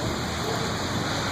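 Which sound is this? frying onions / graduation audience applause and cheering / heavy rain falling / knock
heavy rain falling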